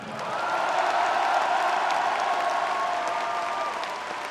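An audience at a public debate applauds warmly, a dense, sustained patter of many hands clapping that swells and then slowly eases.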